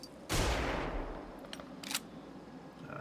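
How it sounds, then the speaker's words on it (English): Flashbang grenade going off in a video game, a single sharp bang with a hissing burst that decays over about a second, followed by a couple of brief clicks. "Flashbang!"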